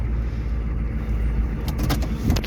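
A 1995 Chevy 3500 pickup with a 6.5L diesel idles with a steady, low rumble on a cold morning, close and continuous, with faint clinks and rattles rising near the end.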